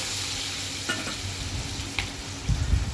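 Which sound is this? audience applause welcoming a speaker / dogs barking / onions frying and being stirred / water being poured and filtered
onions frying and being stirred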